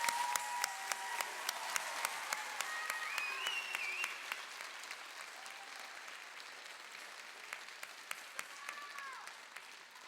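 A crowd applauds at an adult education graduation ceremony, many hands clapping steadily at a distance with distinct sharp claps standing out, while faint voices call out now and then.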